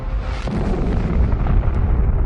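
A supernova explosion sound effect from an astronomy documentary: a loud, sustained, rumbling roar that fills the whole clip with dense low-frequency energy and no speech.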